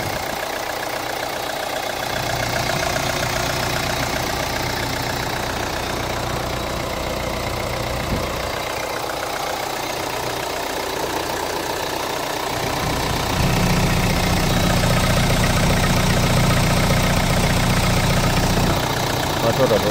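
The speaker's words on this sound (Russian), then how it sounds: "Мотор работает хорошо" A 2012 Hyundai Tucson's engine idles steadily with a constant low hum and rattle, growing slightly louder and deeper partway through.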